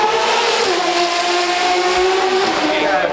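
A Ferrari SF90 Spider at Goodwood 2025 gives a loud, steady, high-pitched engine drone with a sustained tone that holds for about three seconds without any clear gaps.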